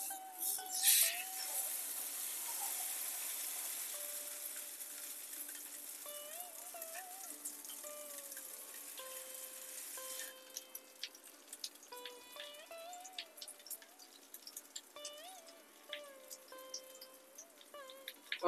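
Whole fish frying in mustard oil: a loud, steady sizzle for the first ten seconds that then thins into softer crackling and scattered pops, with faint tonal sounds running underneath and no talking.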